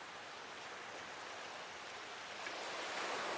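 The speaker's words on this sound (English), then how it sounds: "look at all that water flying off of here" Water sprays off a spinning object as a dense, steady hiss and spatter that swells louder near the end, heard alone without talk.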